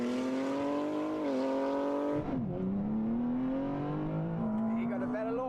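A 1000-horsepower all-wheel-drive car with an 8-speed automatic launches hard on launch control, its engine roaring loud and close with a rising pitch that dips at each quick gear change before climbing again.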